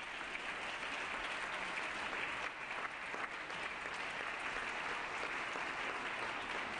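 An assembly floor audience gives steady, sustained applause for gallery guests, a dense continuous patter of many hands that fills the whole stretch at even volume with no voices.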